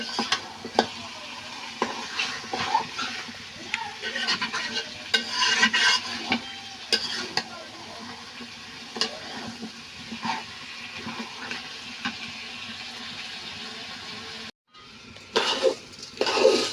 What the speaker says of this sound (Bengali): যতক্ষণ মাংসটা সেদ্ধ নেওয়া হচ্ছে ততক্ষণ এভাবে কষাতে থাকবো।